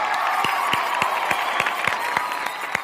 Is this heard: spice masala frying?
no